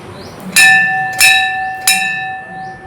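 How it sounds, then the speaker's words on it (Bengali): A metal bell at a Shiva temple in Kanshra, Purba Bardhaman, is struck three times in steady succession. Each loud, close, bright clang rings on and overlaps the next before the last one fades out. "ঘন্টাটা একটু বাজিয়ে দিই।"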